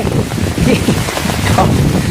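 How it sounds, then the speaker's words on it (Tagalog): Strong wind from Typhoon Kristine roars across the microphone outdoors, with floodwater nearby, a loud continuous gusting rumble with no pauses. "ang lakas ng hangin ngayon, hindi pa humuhupa"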